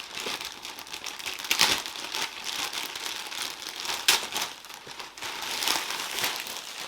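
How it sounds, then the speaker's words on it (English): Tissue paper wrapped around a Marc Jacobs mini tote bag crinkles and rustles steadily at close range, with a few sharper crackling bursts and no talking. "It's got some tissue paper around it."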